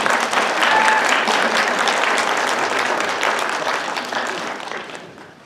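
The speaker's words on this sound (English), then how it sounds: "perhaps those graduating today would like to express their appreciation to their loved ones right now with a round of applause" Graduates and guests at a university English Department convocation give a loud, sustained round of applause that gradually fades out.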